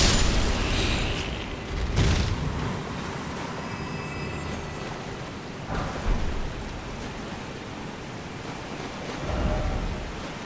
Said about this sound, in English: Time for rain.